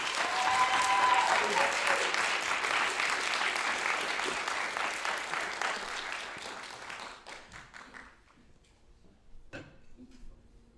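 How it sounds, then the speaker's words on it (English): Audience applause at a college forensics spring showcase, a dense burst of clapping from a full room that rings loudly for about seven seconds, then thins and fades to a few scattered claps. "Let's give her a round of applause"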